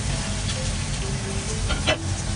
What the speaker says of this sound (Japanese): もうざっくりざっくり炒めますよ。